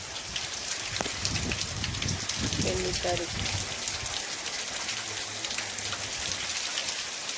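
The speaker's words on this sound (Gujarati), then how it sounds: "વરસાદ પણ ચાલુ થઈ ગયો છે" Steady rain hisses across the whole clip in a Gujarat village, a broad wash of falling drops, with a voice speaking briefly over it.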